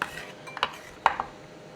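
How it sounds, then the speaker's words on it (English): A knife scraping minced garlic with a big pinch of kosher salt on a board to make a paste, a few short, sharp metallic scrapes and taps close up in an otherwise quiet kitchen. "I'm gonna add a big pinch of kosher salt to them and just kind of scrape it in"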